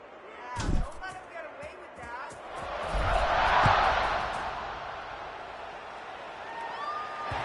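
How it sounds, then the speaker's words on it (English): Stadium crowd at an Iowa college football game just before kickoff, a broad roar swelling and fading in the middle distance with a commentator talking over it. "They're set to kick it off, and this crowd now ready to get behind them."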